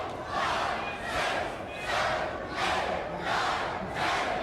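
A women's professional wrestling crowd in an arena cheers and chants along in rhythmic swells, loud collective shouts rising and falling about every second, a count-along roar with no clear talk on top.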